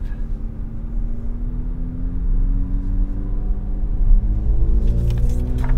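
A 2024 Corvette C8 Z06 engine runs just after its first startup, a deep close rumble with steady idle tones that rise slightly toward the end, plus a few faint clicks.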